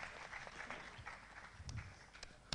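An audience at an RCM business training session applauds, a faint, distant patter of clapping that is quiet and irregular, with a sharper clap near the end.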